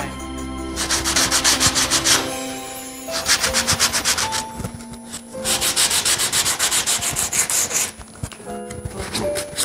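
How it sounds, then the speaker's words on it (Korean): Sandpaper rubbed briskly back and forth over a birch wood spatula, steady rhythmic scraping strokes in bursts with short pauses, close and loud, no talking. "1차 사포 마무리"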